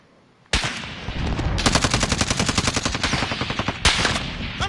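Automatic gunfire in the Warzone video game, loud and close: a sharp opening shot, then a long rapid burst of evenly spaced rounds and a final heavy crack.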